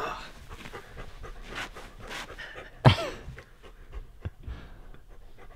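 An old dog pants in quick, soft breaths close by, with a sharp louder huff near the middle and a few faint whimpers.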